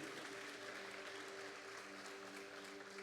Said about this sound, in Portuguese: Você pode aplaudir a Ele, por favor?